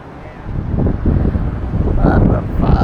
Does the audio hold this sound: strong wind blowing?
yes